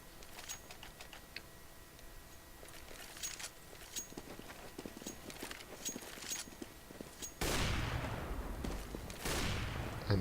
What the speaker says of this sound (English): the opening AWP shots by Markelov just hit the floor behind the players of NiP